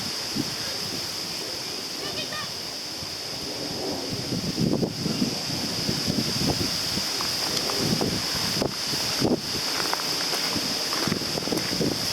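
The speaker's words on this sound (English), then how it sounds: "Ooh, windy up here." Gusty wind buffets the microphone in steady rushing waves, with a few faint voices and rustles underneath.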